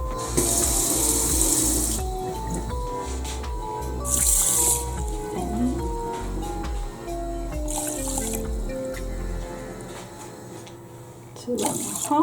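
Water runs and splashes into a pink heart-shaped rice cooker being filled for jasmine rice, a steady close pour with trickling and dripping over a faint musical background.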